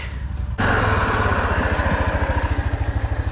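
A Yamaha Grizzly ATV engine revs hard while mud bogging, jumping from a low idle to a loud, steady throbbing roar held close up, with no talk.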